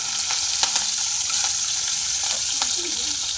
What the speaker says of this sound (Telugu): ఇంత లైట్గా ఫ్రై చేసుకొని పక్కన ఉంచుకోవాలి